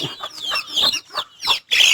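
Chickens kept in a two-tiered, net-covered coop give a run of close, bright clucks and squawks in short bursts with brief pauses between them.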